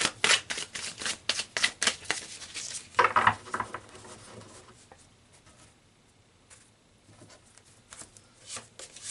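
Tarot cards being shuffled and drawn from a deck up close: a quick run of crisp riffling clicks and card flicks, then softer slides and taps that fade to faint handling noises.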